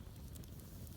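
A campfire burns in the snow in Siberia, its steady low rushing roar dotted with faint crackles, heard up close with no voices.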